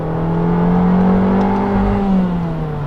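A small Abarth 695 Rivale sports car engine (180 hp) revs up under acceleration, its droning tone steadily rising and falling, loud and near, with no voices.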